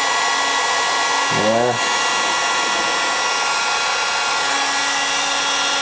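Steady whirring blow of a heat gun warming the bellows of a player piano during refurbishing, constant and close, briefly interrupted by a short spoken word.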